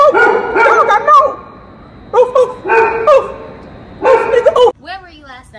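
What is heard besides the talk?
dog barking after being told to attack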